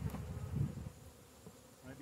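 Low, steady droning hum of honey bees buzzing close by at an open hive during a move from Langstroth to Layens frames, swelling slightly at moments with no voices.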